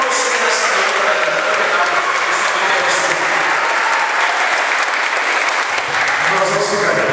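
Church congregation applauding during a Father's Day service, loud sustained clapping filling the hall with faint voices underneath.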